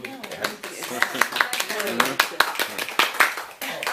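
A small group of people clap after a literary reading, in scattered uneven bursts of hand claps mixed with talk and laughter in a room.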